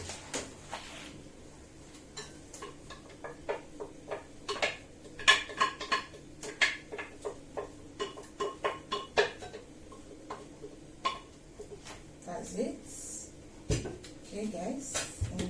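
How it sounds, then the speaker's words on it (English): Blended tomato is poured and scraped from a blender into a bowl while a vegetable soup is being prepared, giving repeated clinks and knocks of utensils against dishes at close range, with kitchen clatter throughout. "I'm going to transfer this in a bowl"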